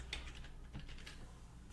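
A computer keyboard clicks in soft, quick taps as someone types during a CentOS 8 install in VirtualBox, faint and close with a low hum beneath.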